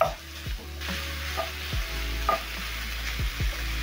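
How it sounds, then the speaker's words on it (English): Minced meat sizzles steadily in a hot pan for a meat pie filling while a spatula breaks it up, with repeated scraping strokes and soft taps against the pan over the constant frying hiss. "Using my spatula, I'm going to break down the meat as the meat cooks."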